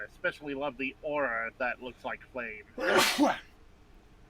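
A person speaks a sentence, then lets out a single loud, sharp sneeze close to the microphone.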